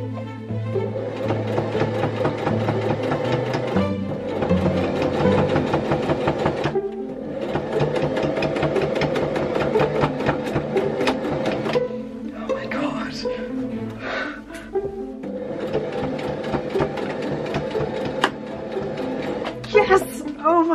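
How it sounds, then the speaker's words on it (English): Sewing machine top stitching dungarees into a pinafore, loud and close, running in steady bursts of rapid mechanical stitching separated by brief pauses. "I just finished that top stitching."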